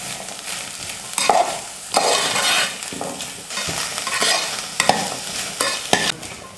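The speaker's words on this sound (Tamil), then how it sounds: "மொச்சக்கொட்டை சேர்த்ததுக்கப்புறம் 1 நிமிஷம் நல்லா வதக்கிக்கலாம்." Lima beans being stirred and sizzling in a hot pan, with repeated scraping strokes of a spoon every second or so over a steady frying hiss.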